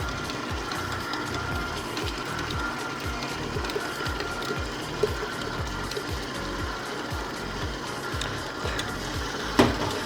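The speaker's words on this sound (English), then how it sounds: "So if you're using a stand mixer at home, I'm on speed number 2" A stand mixer runs steadily on speed two, beating a batter that has whole milk added. Its motor gives a close, even, rhythmic whir with a few small knocks.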